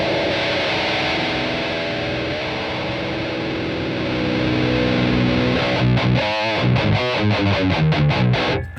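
Heavily distorted, high-gain electric guitar with a thick low end, in a Rectifier-style tube amp tone, sustains loudly, then breaks into tight, chugging palm-muted riffing.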